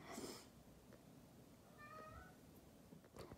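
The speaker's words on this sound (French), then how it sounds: "j'ai mon chat qui commence à faire des siennes." A house cat gives a soft, faint meow midway through, set in a quiet indoor room with a few small rustles and bumps around it.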